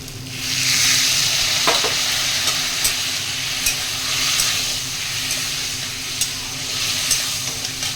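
Water poured into a hot pan of curry with potato and tomato sets off a loud, broad sizzling hiss that swells and holds steady, with faint stirring clicks and no talk.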